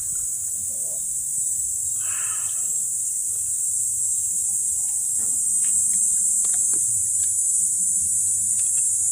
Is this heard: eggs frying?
no